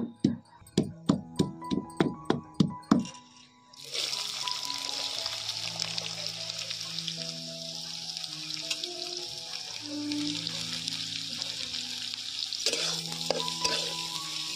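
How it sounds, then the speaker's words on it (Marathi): Cumin seeds crackling and sizzling in hot oil in a pan over a wood-fired stove, a steady frying hiss after a few sharp clanks at the start, with music playing underneath. "आता जिरी थोडी तडतडती"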